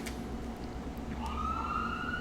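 An ambulance siren outside near a hospital starts up partway through, a rising tone over a dull background of low traffic rumble, moderately faint and with no voices.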